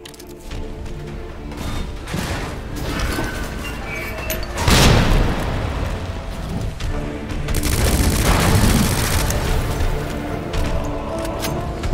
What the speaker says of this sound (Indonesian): Ada granat sih.